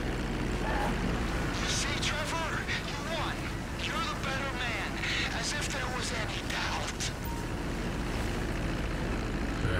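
Propeller plane engine in Grand Theft Auto V, a constant loud drone running throughout, with a voice talking over it.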